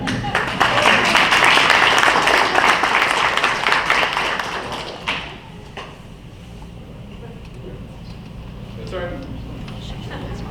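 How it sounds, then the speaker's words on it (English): Applause from the audience at a school board meeting, dense and loud for the first five seconds, then fading into quieter room noise with scattered claps. "Let's give them another round of applause."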